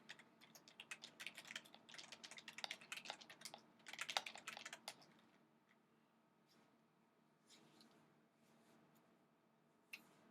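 Fast clattering keystrokes on a computer keyboard, dense close typing for about five seconds, then a few scattered faint taps and one last sharp click, no speech.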